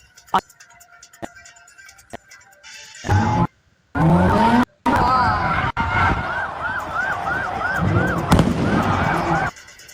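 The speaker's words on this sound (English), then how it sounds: "Cars did donuts while hundreds of people took to the streets, lighting fires, throwing fireworks, jumping on cars." Cars doing donuts on a city street during a rowdy crowd takeover, with loud repeated tire squeals, engine noise and sharp bangs from fireworks, preceded by scattered pops.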